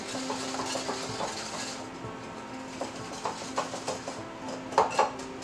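A whisk stirs wet ingredients for zucchini bread in a bowl, making soft swishing and irregular light clinks against the bowl that grow sharper toward the end.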